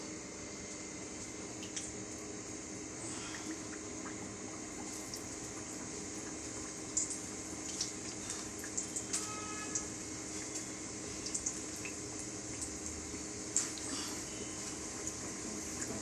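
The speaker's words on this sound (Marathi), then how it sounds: "बेसनाच्या बॅटरमध्ये बुडवायचं आणि तळायला घ्यायचं." Stuffed idli vada coated in besan batter fries in hot oil in a small kadhai, giving a steady close sizzle with scattered light pops throughout and no talking.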